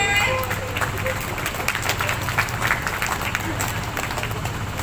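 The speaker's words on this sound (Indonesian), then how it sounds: "Tepuk tangan dong semuanya." Audience in an Indonesian touring theatre show clapping together at a steady level throughout, with crowd murmur and some speech mixed in.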